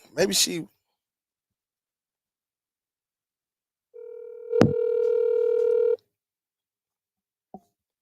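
Touch-tone telephone keypad dialing a call: a long steady tone with a few sharp beeps over it, then a short final blip, after a brief stretch of speech at the start and silence between.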